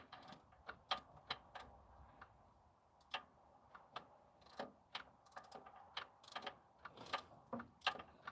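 Ratchet wrench working on a shop truck, giving irregular bursts of crisp mechanical clicks that are close and fairly quiet, with short pauses between strokes.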